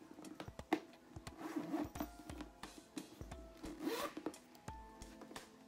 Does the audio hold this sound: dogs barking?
no